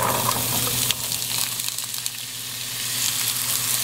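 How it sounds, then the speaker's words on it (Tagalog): Carrots and potatoes frying in hot oil, a loud, dense, continuous sizzle with a constant low hum beneath and small crackles, close up with no talking. "Magpipirito na tayo ng carrot at potato."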